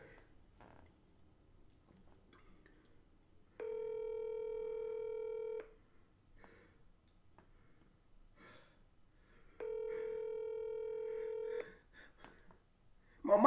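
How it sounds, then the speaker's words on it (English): A telephone makes two long steady ringback tones several seconds apart, loud and clear against a near-silent background with faint breathing and small noises between them. "Hold up, man, I gotta call my mama."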